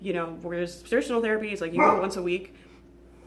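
A pet dog barks and yips repeatedly in a home while someone talks, the barks mixed in with her voice at close range before dropping off into quiet room tone.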